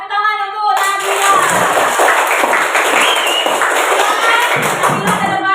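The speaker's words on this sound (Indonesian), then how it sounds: "Tepuk tangan untuk Nabila." A primary school class in Indonesia claps for a student, loud, dense and close clapping from many small hands filling the room, following a brief spoken bit at the start.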